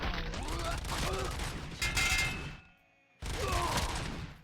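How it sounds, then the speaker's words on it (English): Full-auto weapon fire in RoboCop: Rogue City comes in loud sustained bursts with mechanical clatter and a bright ringing tone, drops to near silence for a moment, then the shooting resumes, while someone talks over it. "God, I love having full auto again"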